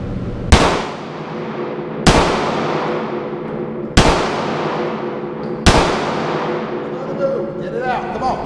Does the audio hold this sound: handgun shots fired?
yes